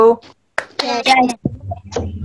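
Children clap their hands in a counted classroom clapping chant, with a few sharp claps mixed among children's voices and an adult's speech.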